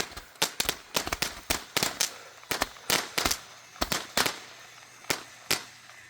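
A Roman candle gatling gun fires a rapid, uneven volley of sharp loud cracking pops, some bunched close together, spread across six seconds of Fourth of July fireworks with no talking.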